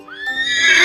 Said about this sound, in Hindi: घोड़ा ये तेज दौड़ने वाला जानवर है।